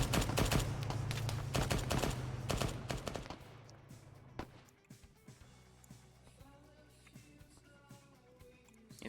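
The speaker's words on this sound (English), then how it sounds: "he's just shooting rounds out like crazy" Rapid gunfire in the military game Arma 3, a fast burst of repeated shots up close for about four seconds, then scattered lighter pops and clatter at lower volume with a voice talking over it.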